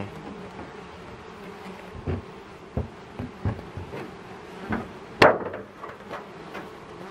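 Honey bees buzz at an opened beehive, a faint steady drone under a series of sharp knocks and wooden clicks from the hive frames, the loudest crack near the end.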